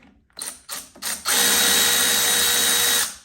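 A Makita power tool spins up in a few short bursts, then runs steadily for about two seconds while removing cylinder bolts on a Gilroy Indian PP100 engine, loud and close with a ratcheting, mechanical whir.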